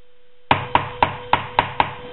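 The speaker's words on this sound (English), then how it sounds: "I hate cutting onions. White onions anyway." A knife chops a white onion into small pieces on a cutting board, six sharp, evenly spaced chops at a steady rhythm, close and clear.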